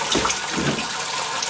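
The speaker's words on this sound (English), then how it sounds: "when you pull down, 20 gallons per minute is going to come out of this safety shower" A pull-down lab safety shower sends a strong rush of running water at about 20 gallons per minute. The gushing hiss is loud and close, with a few splashy surges near the start and no talking.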